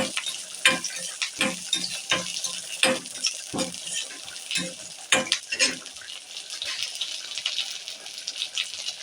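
Shallots and curry leaves sizzle in hot tempering oil, with a soft continuous crackle broken by repeated sharp stirring clatters of a utensil against the pan.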